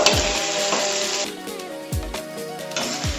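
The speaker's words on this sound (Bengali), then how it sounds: "পুঁই শাকের ডাঁটাগুলো আমার ভাজা হয়ে গেছে" Malabar spinach stalks frying in a pan give off a steady, close sizzle with a few dull knocks from the pan, over soft background music.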